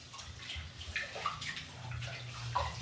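Water from a tap pours steadily into a kitchen sink, a continuous close splashing and sloshing that stays even in level for the whole stretch, with no talking.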